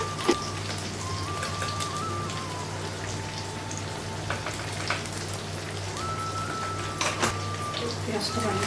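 Salted food fries in hot oil in a home kitchen, giving a continuous crackling sizzle like light rain. A voice is heard over the sizzle.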